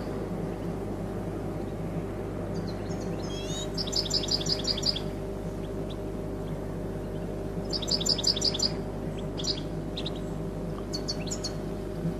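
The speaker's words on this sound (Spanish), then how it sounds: "Unos jilgueros que llegan" Goldfinches arriving in countryside, their bright twittering calls coming in two short bursts with scattered single chirps in between, all over a steady low engine-like hum.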